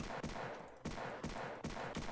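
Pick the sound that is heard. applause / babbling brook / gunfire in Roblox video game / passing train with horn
gunfire in Roblox video game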